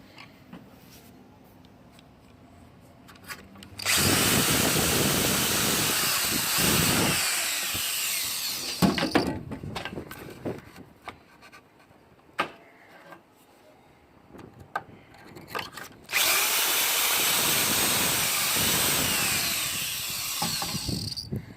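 A drill bores pocket holes in a wood board, producing two long, loud grinding bursts up close with scattered clicks and handling knocks between them.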